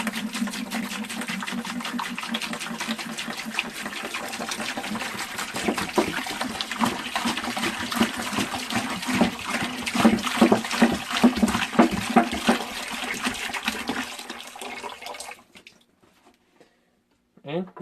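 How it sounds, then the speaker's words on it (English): Water is dumped into a homemade survival water purifier, giving a steady rushing, splashing pour that grows more turbulent before stopping abruptly, then near silence. "all you got to do is add some water"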